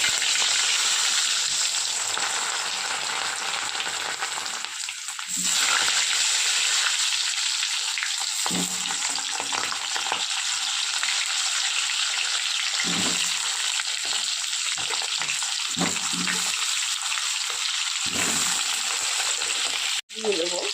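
Baby potatoes and whole cumin seeds frying in hot oil, a loud continuous close sizzle with occasional stirring bumps and shifts in the hiss.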